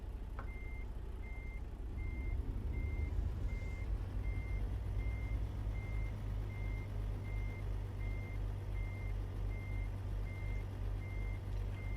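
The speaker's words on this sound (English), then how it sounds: "I'm still getting used to backing this rig up with a trailer, and it is challenging." A truck's reversing alarm beeps steadily at an even rhythm over a low diesel engine rumble while backing a trailer in American Truck Simulator, with no voices.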